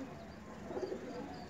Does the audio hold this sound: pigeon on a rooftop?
yes